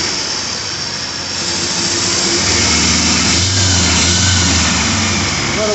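A 1980 Triumph TR7 engine runs steadily and loudly up close, held above idle with a fast, even rumble that swells slightly partway through and never settles down.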